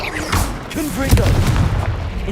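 Blasting curse explosions burst out in a Hogwarts Legacy battle, with several booming hits and crackling impacts layered over spell-casting voices in quick succession.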